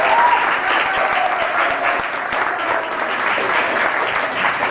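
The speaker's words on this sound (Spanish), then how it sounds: "Vamos a dar un aplauso fuerte." An audience claps loudly and steadily throughout at a magic show, a dense, sustained wash of applause with a faint voice underneath.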